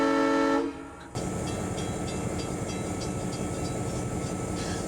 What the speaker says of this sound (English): There were 4 big diesel units up front on these passenger trains